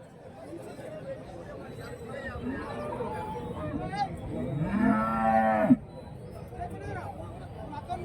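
Dairy cattle moo at a busy cow market in Dharmapuri district, Tamil Nadu, one long, loud, close call rising above steady crowd chatter and people talking nearby.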